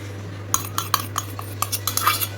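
Eggs being mixed with a utensil in a bowl for KFC-style chicken: a string of sharp, close clinks and taps against the bowl at an uneven beat over a steady low hum, no talking.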